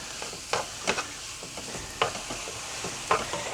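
Chicken mince frying in a pan on a gas stove, a soft steady sizzle broken by repeated scraping stirs and clacks of a utensil at irregular intervals, close by, with no talking.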